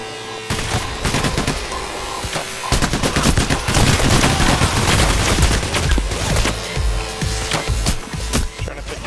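Sustained gunfire in the video game Payday: The Heist, dense rapid bursts of shots and crackling automatic fire continuing throughout, loud and close.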